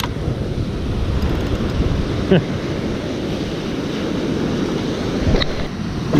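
Ocean waves wash onto a beach at night in a steady, close, low rumble, with wind buffeting the microphone. Two brief surges of surf stand out above the constant roar.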